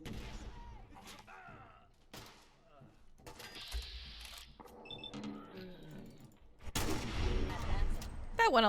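A shotgun fires in Fallout 4 on modded survival mode, with several sharp, loud blasts amid other game sounds and someone talking.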